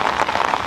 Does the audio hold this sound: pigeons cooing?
no